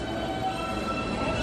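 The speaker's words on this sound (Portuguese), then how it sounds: "Falei que eu ia mostrar como era o metrô pra vocês." A metro train gives a steady, loud rumble with a faint high whine, heard from close by as one continuous sound with no talk.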